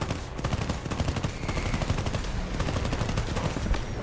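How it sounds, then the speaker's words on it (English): Jet-mounted machine guns firing in a video game, a dense, rapid rattle of gunfire running continuously and loudly over a roaring engine-like background, no voices. "if you actually put the guns on"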